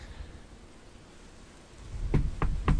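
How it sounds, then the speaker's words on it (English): Steady rain patters outside a house in a cinematic scene from the wrestling game TEW 2020, a soft continuous hiss that swells louder toward the end, punctuated by three dull thumps. "We go cinematic. And we're outside a house. It's raining even."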